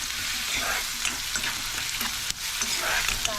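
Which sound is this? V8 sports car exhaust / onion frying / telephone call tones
onion frying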